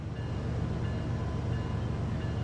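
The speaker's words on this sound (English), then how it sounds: "the back of our train is now moving" Diesel train pulling away in Train Sim World 4, a steady low rumble of engine and rolling wagons, continuous and moderately loud, without voices.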